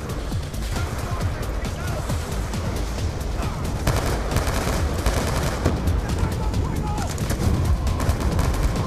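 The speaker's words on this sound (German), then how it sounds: "Oh, jetzt habe ich Salazar angeschossen." Call of Duty Black Ops 2 gunfire: dense, continuous bursts of automatic shots and explosions over game music, with someone speaking over the action.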